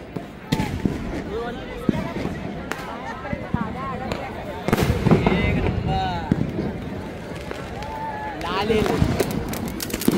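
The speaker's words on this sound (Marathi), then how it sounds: "तर आता जे फटाके फोडताय ते बघूया थोडेसे" Firecrackers going off at a crowded Diwali fire show in Dadar, with sharp bangs and crackles scattered through the scene under steady crowd chatter and nearby voices.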